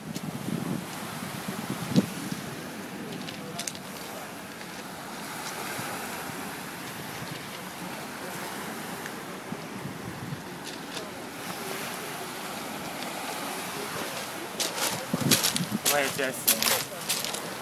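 Steady Black Sea surf washes in at Sochi under wind buffeting the microphone, with people talking faintly over the sea noise throughout.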